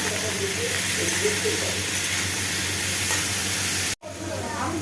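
Food seasoned with turmeric, salt and green chilli fries in a pan as it is stirred, making a continuous close sizzle with scraping that cuts out briefly just before the end.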